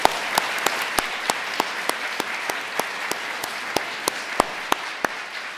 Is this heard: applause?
yes